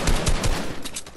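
Rapid automatic gunfire in a squad scrim video game, a burst of several quick shots at an even rhythm, fairly loud and close, with no talking over it.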